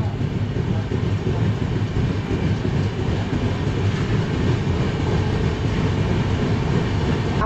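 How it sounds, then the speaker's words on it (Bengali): The Darjeeling Mail, an express with LHB coaches heading from Sealdah toward New Jalpaiguri, makes a loud, continuous rolling rumble from inside the coach with faint wheel rhythm, and no clear talk. "একদম রাইট টাইমে কিন্তু আমাদের ট্রেন কিন্তু ছেড়ে দিল দার্জিলিং মেল।"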